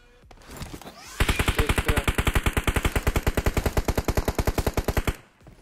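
Sustained automatic gunfire in PUBG Mobile on the Erangel map: a loud, rapid, evenly spaced burst of shots that runs for about four seconds after a short lead-in, with no talking.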